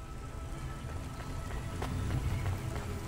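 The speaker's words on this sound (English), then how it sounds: "Don't let all the rain get you down." Light rain patters in a rainy city in Cloudpunk, a soft close drizzle with scattered individual drops tapping over a low murmuring background, no voices.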